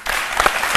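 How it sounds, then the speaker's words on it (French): Studio audience applause on a French-language TV talk show, a dense, loud wash of many hands clapping at once that swells briefly near the end of the short burst. "Applaudissements, donc"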